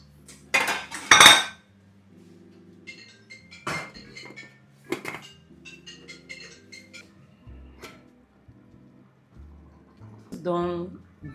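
A metal lid set onto a cooking pot while Owho soup is being made, with sharp clanks and clinks of metal against metal, then quieter scattered taps, and a voice speaking in between.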